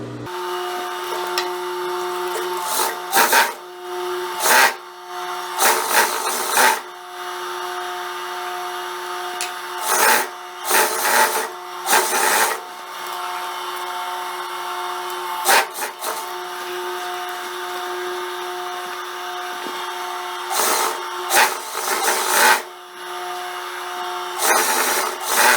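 A sewing machine runs in repeated short bursts, closing the crotch inseam of a wide-leg jumpsuit, loud and near with steady mechanical whirring between pauses.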